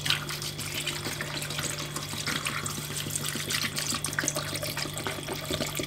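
Water runs steadily from a tap into a pot of chicken feet seasoned with Himalayan salt, a continuous close splashing fill that holds even throughout, with a faint electrical hum beneath and no talking.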